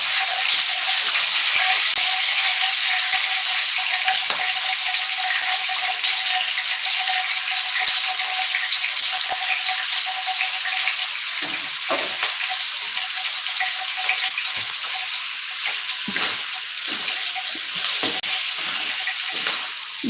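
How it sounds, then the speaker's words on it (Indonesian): Chicken nuggets frying in a pan make a steady, loud, close sizzle that lasts throughout, with occasional crackles and pops and no voices. "Bentar saya lagi masak dulu nuggetnya."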